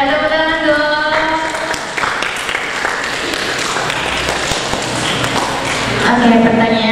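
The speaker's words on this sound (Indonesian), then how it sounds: "Oke, benar ya. Tepuk tangan dong." At a school library outreach session, students break into applause: a dense, close clatter of hands that swells after a sung or sustained tone fades, with voices audible underneath and toward the end.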